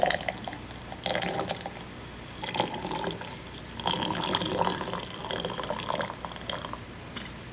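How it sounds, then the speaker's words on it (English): Hot water cooled to about 160 degrees poured from a kettle over Chinese tea leaves in teaware, a steady close splashing trickle with small drips and bumps, no voices. "Then I just go straight, pour the water in."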